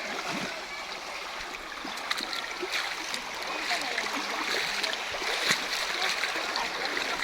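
A creek being crossed on foot in summer gives a steady, close wash of flowing water with small splashes throughout.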